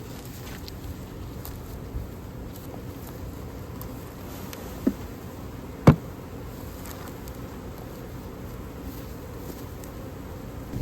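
Honey bees in an outdoor bee yard make a soft, steady buzz that stays low and even throughout, with a couple of brief faint taps partway through and no voices.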